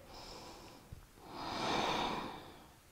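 Slow, deep breaths through the nose during Ashtanga yoga practice, one softer exhale followed by a longer, fuller airy breath, close and intimate with no talk.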